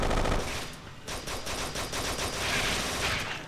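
Sustained automatic gunfire in the video game Kane and Lynch 2: Dog Days, with rapid loud bursts of shots crackling almost continuously and a brief lull near the start.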